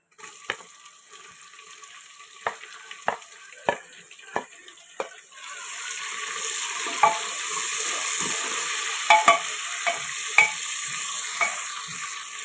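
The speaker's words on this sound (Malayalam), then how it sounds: "ഇതിലോട്ട് 2 സവാള ഇതുപോലെ സ്ലൈസ് ചെയ്തത് ഇട്ട് കൊടുക്കാം." Two sliced onions go into hot Dalda, starting with scattered clicks and stirring knocks, then breaking into a steady close sizzle with occasional utensil taps over it.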